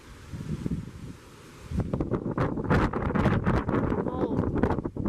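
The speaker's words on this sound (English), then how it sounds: "Dude, it's so windy." Strong storm wind gusting against a microphone outdoors, a low roar that surges louder after a calmer opening and keeps buffeting in uneven bursts, with excited voices breaking in over it.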